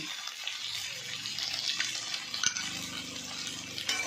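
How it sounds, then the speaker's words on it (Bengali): Pekal fish fries with turmeric, chilli powder and salt, giving a soft, fairly faint sizzle with light scraping and clinking as it is stirred in the pan. "এবার ভালো করে নাড়াচাড়া করে নিচ্ছি"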